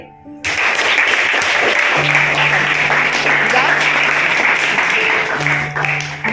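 A classroom group claps together after a correct quiz answer, a dense burst of loud, close applause that starts abruptly and holds steady for several seconds.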